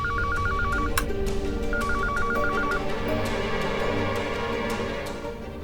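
An electronic telephone ringtone trills in two short warbling bursts over steady background music and ticking, loud and close, signalling an incoming call late at night in a TV drama.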